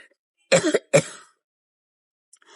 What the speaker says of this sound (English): got a really bad cough